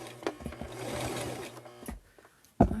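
A sewing machine runs a short back stitch at the end of a seam on a homemade fabric face mask, with a brief whirring burst, a few clicks, then a sharp knock at the end.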